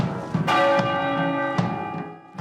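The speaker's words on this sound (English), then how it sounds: "Pierced by a bell toll from the curfew tower." A large church bell tolls from a castle curfew tower during a royal funeral: one deep strike rings out with a long humming decay, and a second strike arrives about a second later over a quiet outdoor background.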